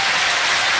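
Applause in a shed during a live Westlife acoustic session, a brief burst of dense, even clapping that fills the space loudly for under a second.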